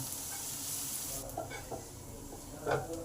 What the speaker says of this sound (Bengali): পেঁয়াজটাকে ভালো করে নেড়ে নেড়ে ভাজা করে নেবো